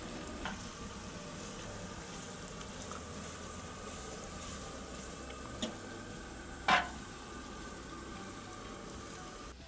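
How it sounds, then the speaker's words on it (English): Onions fry in a large pot for an 11 kg batch of mutton biryani, a steady low sizzle with faint stirring scrapes and one sharper clink near the end, with no talking. "keep stirring it regularly and to make sure that the onions are cooked evenly and they're golden brown"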